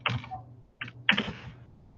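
Someone types a command on a computer keyboard: three short, close bursts of crisp key clicks separated by brief pauses.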